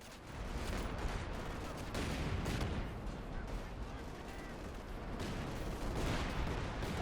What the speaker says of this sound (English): Wow, good job just opening fire upon the enemy.